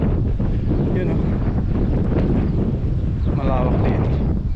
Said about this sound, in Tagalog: hindi madinig masyado dahil malakas ang hangin